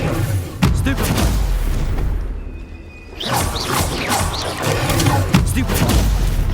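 Confringo blasting spell explosions in Hogwarts Legacy during a troll fight, loud booming blasts and crashes with a brief quieter gap midway, under a speaking voice.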